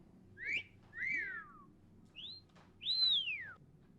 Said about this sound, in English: That's a cat call whistle.